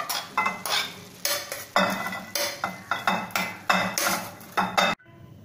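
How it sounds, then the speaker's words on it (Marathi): Cooked moong and matki sprouts are scooped out of a pan into a bowl, with a series of close, regular spoon scrapes and clinks against metal, each followed by a brief pause, ending abruptly. "आता आपण गॅस बंद करूया आणि या बाउलमध्ये हे काढून घेऊ आपण."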